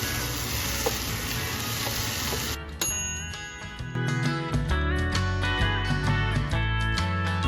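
Spinach-stuffed chicken filling sizzles loudly in a pan as it is stirred for a few seconds, then tinkling music takes over.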